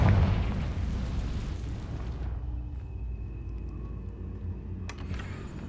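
A Confringo blasting spell explodes in Hogwarts Legacy, a loud booming burst that rolls and fades over a couple of seconds into a quieter low rumble, with a faint crackle near the end.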